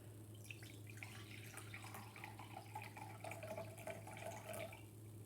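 Liquid poured steadily into a measuring cup, a continuous close trickle and splash over a low background hum, with no talking.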